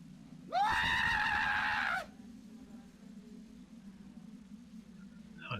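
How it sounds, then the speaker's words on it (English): A man screams in the video game Phantasmagoria 2, a single loud, strained, wavering cry lasting over a second, then it cuts off, leaving a low steady hum and faint ambient noise. "Guy screaming."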